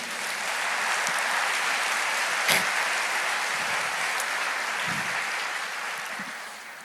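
Sustained congregational applause during a church sermon, a dense steady wash of many hands clapping that holds at an even level for several seconds and then tapers slightly near the end, with no speech over it.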